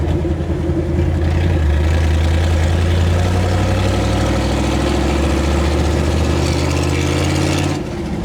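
A 1977 Jeep CJ5 engine runs steadily and loudly up close, a deep continuous rumble with a low idle-like drone that holds for the whole stretch and eases slightly at the end.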